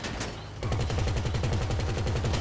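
Rapid automatic gunfire in Grand Theft Auto V during a heist convoy setup mission, a quieter shot or two first, then a steady loud burst of repeated shots that runs on to the end.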